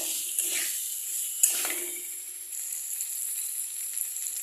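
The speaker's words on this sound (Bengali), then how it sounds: "আমি এটাকে ভালো করে আরও কিছুক্ষণ এটাকে কষিয়ে নেব।" Potato and green banana curry being sautéed in a pan gives off a steady, moderately loud sizzling hiss with a few soft stirring scrapes near the start, and no voices.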